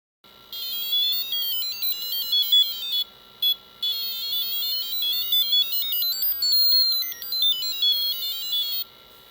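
Electronic sample and hold effect driven by an infrared proximity sensor: stepped, bleeping synth tones jumping between pitches in a steady run, clean and fairly quiet, with brief gaps and no voices.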